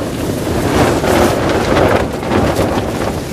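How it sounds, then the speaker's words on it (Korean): Strong wind batters a tent on a mountain hillside at Taebaek's Baramui Eondeok on Maebongsan, a loud continuous roaring rush with gusting surges and flapping buffeting, close to the microphone, with no talking. "바람이 엄청납니다"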